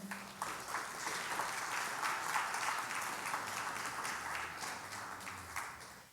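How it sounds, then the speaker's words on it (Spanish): A church congregation gives a sustained round of clapping during a Spanish-language sermon, a steady wash of many hands at moderate distance with no break, quieter than a close crowd. "Denle un aplauso al Señor, hombre."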